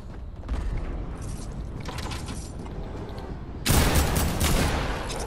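Gunfire in the Fortnite video game, a dense, loud burst of shots and clattering mechanical noise that erupts abruptly midway and keeps rumbling on, without talk.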